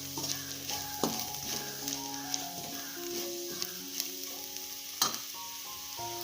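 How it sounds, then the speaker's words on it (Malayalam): Onions sautéing in a pan as chili powder, black pepper and turmeric are stirred in for Kerala-style chicken puttu, giving a steady close sizzle broken by spoon scrapes and light clinks against the pan, with no voices. "ഉള്ളി ഒന്ന് വഴന്നു വന്നിട്ടുണ്ട്."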